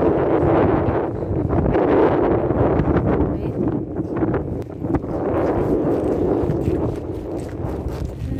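Strong wind buffets the microphone outdoors near a forest on a cold day, a continuous loud low rumble with gusts that swell and ease throughout.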